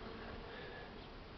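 Honeybees buzzing at a beehive in an apiary just after a swarm was settled in, a steady, dense hum with no break and no voices.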